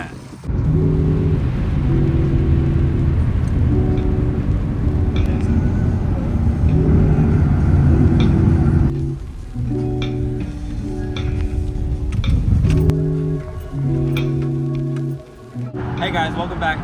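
Busy traffic on the I-40 highway passing overhead, with a loud continuous roar and droning tonal hums from vehicles. A voice talks over it for much of the time, and the roar dips briefly near the end.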